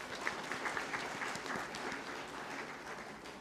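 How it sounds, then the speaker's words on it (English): Audience applause at a national conclave on technical textiles as a government ministry official is invited to the dais; sustained, moderately loud clapping from a crowd in a hall, steady throughout with no speech. "Loud applause, please, everyone."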